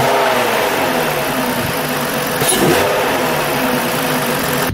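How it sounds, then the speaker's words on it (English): A V6 car engine with a cold air intake idles with a throaty rumble and briefly revs up mid-clip before settling back; loud and close, no voices. "I love cold air intakes, and this car, it actually transforms the sound of this car."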